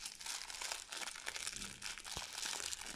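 Plastic wrapper crinkling continuously as a LOL Surprise ball is opened, close and fairly loud, with dense rustling throughout and a sharper crunch near the end.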